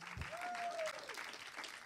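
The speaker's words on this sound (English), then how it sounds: "give yourself a round of applause" Applause from a film Q&A audience, steady clapping across the whole moment with a faint tone running through the first half.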